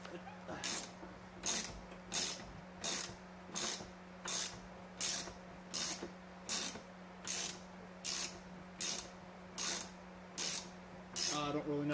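A ratchet clicks in a steady run of sharp bursts, roughly a dozen evenly spaced strokes, working a rust-seized rear suspension bolt on a Subaru Outback, close up with a faint background hum.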